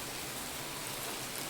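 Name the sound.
rain falling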